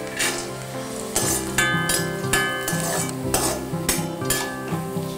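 Cashew nuts sizzle in hot fat in a pan while prasadam is prepared for Vinayaka Chavithi, a steady close frying hiss broken by repeated metallic clinks and scrapes of a spoon stirring against the pan.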